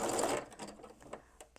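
A sewing machine running a short back tack on freestanding lace, a brief close burst of stitching that quickly slows into a few scattered mechanical clicks.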